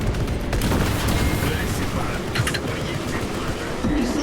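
Dense rumbling gunfire and booming fortress cannon blasts in the video game Warhammer 40,000: Space Marine 2 fill the scene continuously, with voices talking underneath the barrage.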